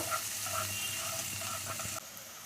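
Chopped spring onion and onion fry in a pan, giving a steady, soft sizzle and hiss with a few faint stirring clicks. The sizzle drops slightly near the end.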